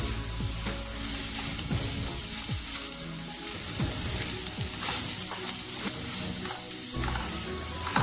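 Chicken curry masala and garam masala powder sauté in a hot pan, a continuous loud sizzle with frequent scraping stirs and spoon knocks up close, and no one speaking.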